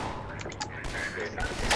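Bursts of gunfire in the first-person shooter Synergy, with short rapid shots and sharp louder blasts late in the stretch, all under a busy game soundscape while players chatter.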